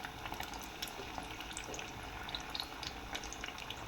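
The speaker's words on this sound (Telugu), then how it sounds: "సో దీన్ని మీడియం ఫ్లేమ్లోనే పెట్టుకొని బ్రౌన్ కలర్ వచ్చే వరకు వేయించుకోవాలి" Potato fingers frying in oil over a medium flame, a steady close sizzle with dense crackling bubbles running throughout.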